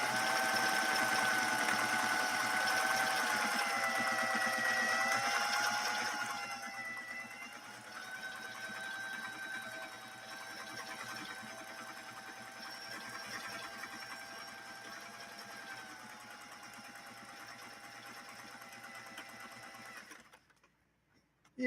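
A 1960s Singer 503A sewing machine stitches cotton in a steady, continuous whirring hum with a fluctuating motor pitch, running close and alone for about twenty seconds before stopping abruptly.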